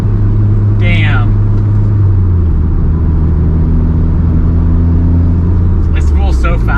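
Mitsubishi Evo engine revving hard with turbo spooling, a loud close rumbling drone that drops in pitch partway through, with a brief whistle-like burst and people's voices over it.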